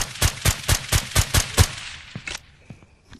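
Suppressed gunfire from a video game: a rapid, evenly spaced burst of about seven or eight muffled shots, followed by a couple of sparser, fainter shots trailing off, fairly close and with no voices.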